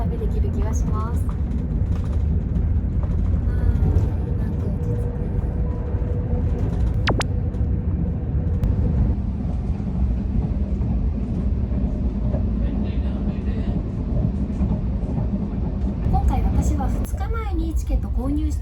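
Steady rumbling of an Indian passenger train in motion between Delhi and Amritsar, with rattling carriages and a brief high squeal, while voices murmur faintly beneath the constant noise.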